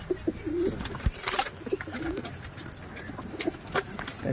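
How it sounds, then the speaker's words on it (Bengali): Pigeons cooing in a loft, with soft repeated low coos and occasional wing flutters against steady background noise, no talking. "এসব পায়রা আছে।"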